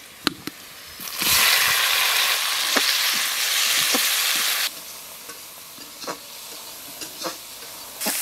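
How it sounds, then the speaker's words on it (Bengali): Onion and tomato fry in hot oil with a broad sizzling hiss that rises sharply, holds for a few seconds, then drops back to scattered spoon scrapes and taps against the pan. "পেঁয়াজ টমেটোল ভালো করে কষে নিয়েছি"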